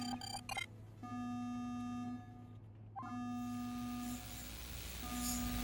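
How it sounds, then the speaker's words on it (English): A fire alarm in the video game Murder by Numbers sounds as repeated electronic beeping tones, some short and some held, moderately loud against a low background hum. "It's the fire alarm, Scout."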